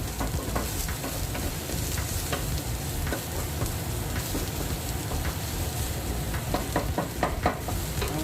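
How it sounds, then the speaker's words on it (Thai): Green curry paste stir-fried in a pan for Thai green chicken curry, giving a steady, close sizzle with scraping and stirring clicks throughout, no voices. "ผัดไปเรื่อย ๆ ให้พริกแกงเราสุก"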